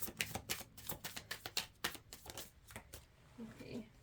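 Tarot cards being shuffled in quick riffling bursts, close and crisp, with a few soft crinkles; the shuffling thins out and turns quieter toward the end.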